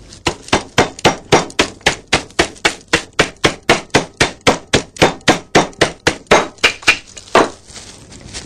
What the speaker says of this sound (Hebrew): שמתי אותם בשקית ניילון, ואני הולכת פשוט להרביץ להם עד שהם יישברו